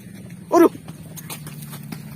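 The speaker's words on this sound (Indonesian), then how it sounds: "Aya kuda euy." A horse gives a single short snort or nicker, close by, over a low steady hum and faint rustling.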